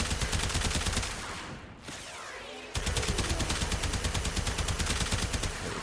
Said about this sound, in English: As you can see, the assault rifle, not bad at all.